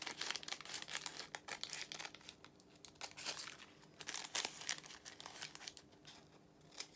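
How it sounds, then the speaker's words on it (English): Scissors roughly cutting out fabric leaves for a doll's apron dress, a faint, close run of irregular snips and rustling fabric with uneven bursts and no talking. "I'm going to just roughly cut out the leaves"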